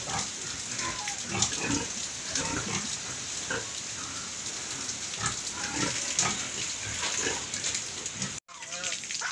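Pigs and piglets grunting on a Philippine farm, a continuous mix of close snuffling grunts and squeals under steady background noise.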